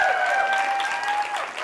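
An audience claps for performers at a live show, a dense, loud burst of applause with a steady sustained tone running underneath.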